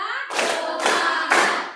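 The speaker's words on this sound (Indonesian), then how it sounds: "Tepuk 1, tepuk 2, tepuk 3" Students in an Arabic-language classroom clap in three sharp, separated bursts during an ice-breaking rhythm game, each clap loud and close.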